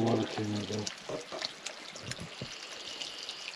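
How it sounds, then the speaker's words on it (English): Water pours and trickles out of a demolished car in a steady, close dribble, with a voice briefly talking at the start. "It sounds like more water came out though."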